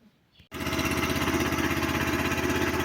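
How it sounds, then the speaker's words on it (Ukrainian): A Motor Sich walk-behind tractor engine fires up after a short quiet stretch, then settles into a steady, loud, rapid chugging idle as it warms up, close by, with no voices. "запустили мотоблок, зараз минутку прогріється і будемо їхати"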